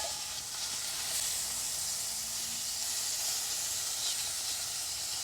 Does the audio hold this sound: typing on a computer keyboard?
no